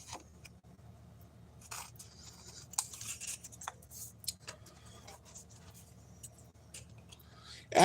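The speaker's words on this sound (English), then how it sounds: "I can just trim it out with some scissors." Scissors trim a paper card in a quiet craft session, with soft intermittent snips and scrapes of paper, close and faint, ending in a louder rustle.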